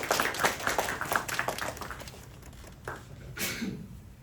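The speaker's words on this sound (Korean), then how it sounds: "박수로 한번 드리겠습니다" Applause at a Korean church's Sunday worship service after a blessing prayer and congratulations, dense clapping that fades out over a few seconds, with a brief renewed burst near the end.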